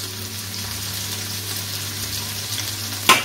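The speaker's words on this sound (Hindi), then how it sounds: "तो ये मैंने डाल दिया है गार्लिक और प्याज, और इसे मैं फ्राई कर लूंगी कुछ देर के लिए" Garlic and onion frying in a pan, a steady close sizzle with no voices, ending in a brief louder burst of crackling.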